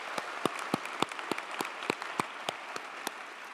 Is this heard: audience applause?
yes